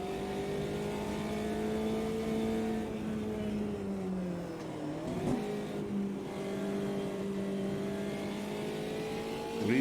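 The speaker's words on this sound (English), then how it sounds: "blip it down into second, get that front end round into third, try and keep the RPM up" Race car engine in Automobilista 2 holding a steady loud drone, its pitch dipping and climbing again through a quick gear change midway, running continuously up close with no talk.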